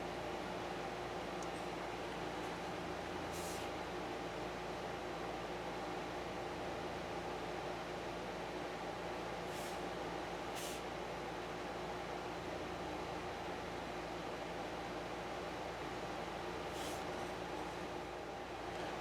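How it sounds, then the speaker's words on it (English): An air conditioner runs steadily in the background on a hot day in Oklahoma, a constant broadband hum and hiss with no talking over it. "The air conditioner's still running in the background there."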